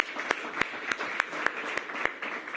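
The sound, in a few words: applause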